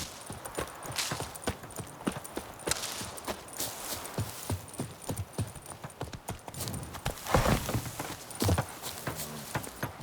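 A horse ridden in The Witcher 3 clops along at a steady trot, hooves striking in a quick, even rhythm, moderately close with some soft background ambience.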